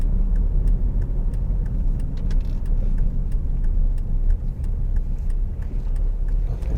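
A car drives along a road between Hawkinge and Folkestone, its engine running steadily under a broad rumble of road and tyre noise, with a faint regular ticking, probably an indicator, throughout.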